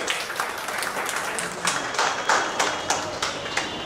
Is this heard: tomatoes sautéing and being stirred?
no